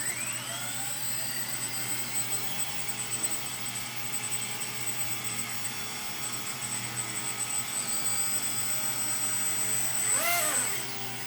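Electric RC AH-64 Apache helicopter, its motor whining and rotors spinning up with a steady high-pitched hum that rises slightly in pitch, fairly quiet and heard alone.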